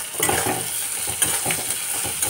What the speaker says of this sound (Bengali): বেগুনটা যতক্ষণ না গলবে ততক্ষণ পর্যন্ত এটাকে ভাজতে থাকবো।